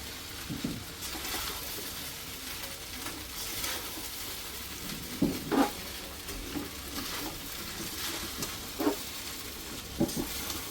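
Sabudana khichdi topped with coriander sizzles in a pan over a high gas flame, giving a steady close hiss broken by occasional louder pops and stirring scrapes, with no talking.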